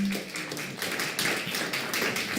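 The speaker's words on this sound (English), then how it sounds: "round of applause" Audience applause for Dr. Smith after a talk, a dense steady patter of many hands clapping close by, with no pause or voices.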